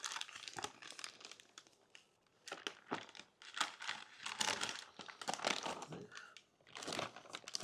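Aluminum foil crinkles and tears as it is peeled back from smoked BBQ spare ribs, a close, busy run of crisp rustling bursts with short pauses between them.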